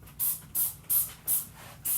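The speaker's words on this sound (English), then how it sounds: "Spray some stuff all around it." Lysol cleaner is sprayed inside a refrigerator in five short, evenly spaced hissing bursts, each close and crisp, with brief quiet gaps between.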